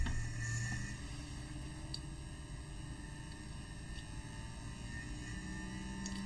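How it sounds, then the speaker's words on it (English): A mechanical chopper on a repair bench, its internal motor winding up, giving a steady low hum with faint tonal whine that runs evenly throughout at moderate level. "that winding up noise is the motor inside the mechanical chopper winding up"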